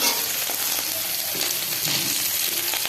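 Chopped garlic and charred green chili fry in hot oil, a loud, dense, continuous sizzle with faint stirring clinks, no voices.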